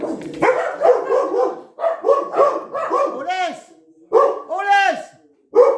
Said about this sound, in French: Je suis désolé pour mes chiens.